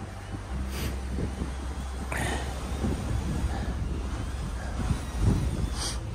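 Strong wind gusting at around 29 across an exposed fell top at a wild camp, a rough low rush buffeting the microphone in uneven surges for several seconds.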